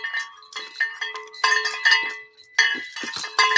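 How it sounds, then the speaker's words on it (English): A bell ringing together with rattling chains, bright metallic clinks and jangles coming in bursts with short quiet gaps, fairly close and loud. "I hate that bell and those chains."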